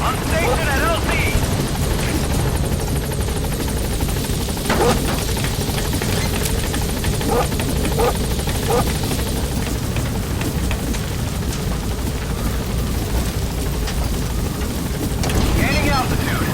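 A helicopter in the video game Metal Gear Solid V: The Phantom Pain holds a constant, loud, dense rotor and engine roar for the whole stretch, with a voice occasionally faint beneath it.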